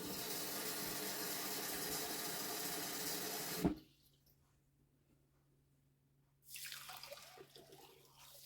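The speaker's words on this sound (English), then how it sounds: "And now I'm just going to start adding water." Water poured into a pot of lentils: a loud steady splashing stream for several seconds that stops abruptly, a quiet pause with a faint hum, then splashing resumes briefly.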